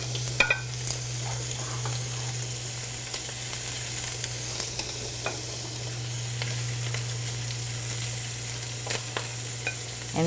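Shrimp fry in a hot pan with a steady, quiet sizzle and a few soft scrapes of stirring, and no voices are heard.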